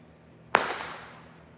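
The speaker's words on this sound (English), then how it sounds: "Oh, more fireworks." A single sharp firework bang on the Fourth of July at Harpers Ferry, West Virginia, followed by a long fading rumble. The shot is moderately distant and stands alone with no talking.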